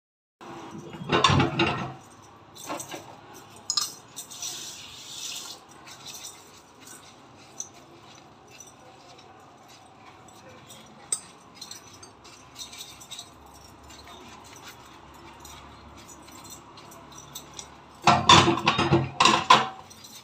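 Washing up in a home kitchen, with dishes and utensils clattering and rattling in two louder bursts at the start and end, and quieter clinks and water-like hiss in between.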